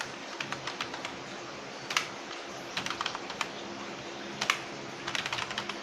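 Names typed on a computer keyboard, quiet irregular bursts of light key clicks with short pauses between words, close and alone.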